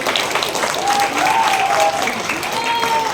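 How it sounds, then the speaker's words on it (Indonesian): Audience applause at a family-themed event for Indonesian Red Cross (PMI) volunteers and families, steady clapping for about three seconds, with faint voices and a few whistle-like tones over it. "Kita berikan tepuk tangan Bapak Ibu."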